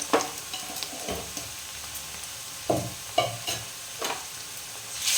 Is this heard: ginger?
yes